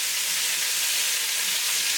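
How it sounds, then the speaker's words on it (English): Four chicken quarters sear and brown in a 7¼ pot, giving a loud, steady, close frying sizzle with no talk. "So while we're browning our chicken"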